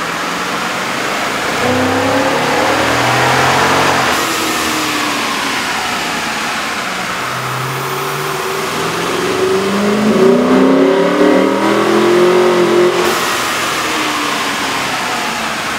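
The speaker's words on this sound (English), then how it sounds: "we ran the vehicle on the dyno to test the sound comparison versus the stock intake" A 5.7L V8 engine in a 2011 Dodge Durango or Jeep Grand Cherokee, fitted with a K&N air intake, revs hard and loud on a dyno, the roar climbing and dropping in long sweeps over a constant mechanical drone.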